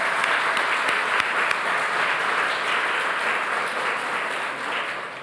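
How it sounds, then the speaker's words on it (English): An awards ceremony audience applauds steadily for about five seconds, a dense, even wash of many hands clapping that holds loud and fades slightly at the end. "let's give everyone a round of applause for helping to make tonight possible."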